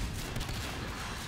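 Rapid gunfire in the Natural Selection 2 video game, a dense unbroken volley of shots filling the whole short moment at moderate loudness.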